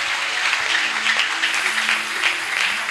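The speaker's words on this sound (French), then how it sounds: "acclame d'abord notre Jésus" Church congregation applauding together in a steady, dense burst of clapping that holds at a consistent level throughout, with no speech over it.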